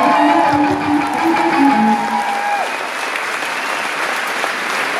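A concert crowd at a live rock show at the Palladium in Cologne applauds and cheers. Dense, steady clapping with shouts fills the hall, and a held feedback-like tone fades away early.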